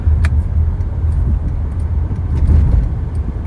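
A 2003 Acura CL with a six-speed manual cruises in a high gear, a steady low engine drone blended with road and wind noise, continuous and close throughout.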